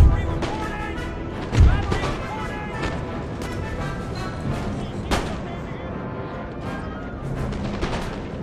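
Empire: Total War artillery cannons fire in a land battle, with a heavy boom early and sharp reports scattered through a rumbling battlefield wash, while someone talks over it.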